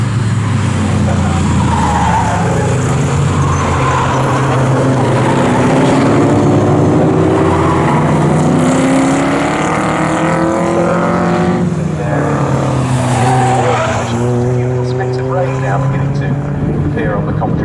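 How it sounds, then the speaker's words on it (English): Morgan race cars at the Snetterton circuit roar past with rising and falling engine notes, loud and continuous, while a commentator talks over the sound throughout. "So through goes the 2nd place car now."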